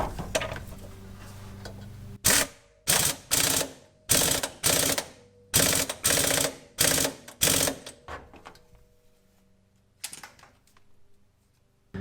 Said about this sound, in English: So now it's just to get this back on and tight, which we can use our rattle gun for.